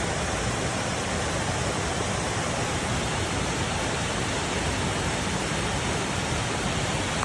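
A waterfall beside a lake pours steadily into a creek, producing a dense, continuous rushing roar that stays loud and unchanging throughout with no other sounds.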